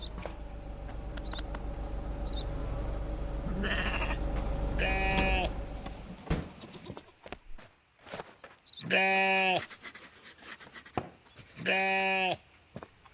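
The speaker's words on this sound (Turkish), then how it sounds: "Üç keçi." Goats in the video game Contraband Police give several drawn-out, nasal bleats, two of them loud and close near the end, after a stretch of rumbling background with a voice talking.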